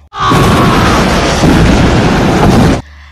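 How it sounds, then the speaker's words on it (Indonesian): A loud, roaring car explosion in a film bursts suddenly and rumbles on for nearly three seconds before cutting off abruptly. "Ternyata mobil sebelah Vicky yang meledak."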